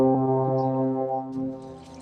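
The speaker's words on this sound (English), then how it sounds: "not a foghorn, but the horn of a ship" A ship's horn sounding in a game, a long low droning blast that holds steady, then fades out as faint background noise rises near the end.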